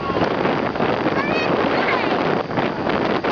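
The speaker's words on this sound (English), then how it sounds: "It is like really windy up here." Strong wind roars and buffets against the microphone continuously, high up at a fair, loud and close, with faint voices barely audible beneath it.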